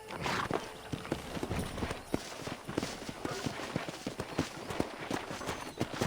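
Horse hooves clip-clop steadily in the Red Dead Redemption video game, a continuous rhythmic trot mixed into a dense, busy game soundscape.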